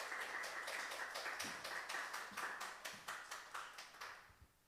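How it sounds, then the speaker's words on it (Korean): Rhythmic, unison clapping from a church congregation welcoming a newly appointed lay leader at Sunday worship, steady beats that fade out near the end. "박수로 환영하겠습니다."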